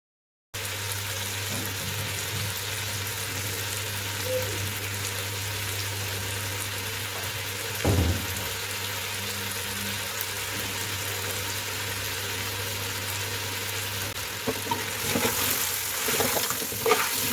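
Ingredients fry steadily in a pot for a fish head pulao stock, with lemon peels among them, giving a continuous close sizzle with a low hum beneath and a brief clatter partway through.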